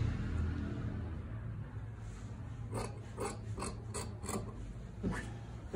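Cut cloth for a traditional Nepali chaubandi blouse is stitched along its edges, probably on a sewing machine. A steady mechanical hum runs throughout, with a run of close, rapid clicking and rasping bursts in the middle and no talking.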